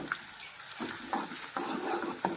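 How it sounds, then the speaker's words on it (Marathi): Garlic, coconut and ginger paste frying in a pan, a steady sizzle with a few soft stirring scrapes and clinks spaced through it, close and moderately loud. "फ्राय करून घ्यायचं त्याच्यामध्ये लसूण खोबरं आल्याचे पेस्ट"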